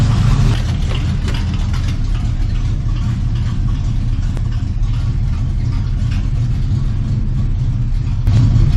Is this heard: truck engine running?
yes